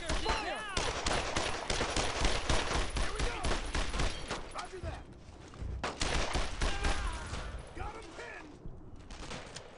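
Heavy, sustained gunfire in the Brothers in Arms: Road to Hill 30 video game, with rapid bursts of rifle and machine-gun shots overlapping and a brief lull midway, with shouted voices mixed in.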